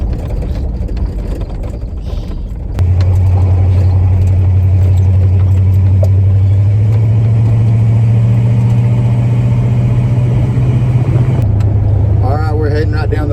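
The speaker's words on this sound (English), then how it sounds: "The motor sounds pretty good, really." An old Ford truck's engine drones steadily as it drives down the road, close and loud inside the cab, with gear shifts changing its pitch and someone talking over it.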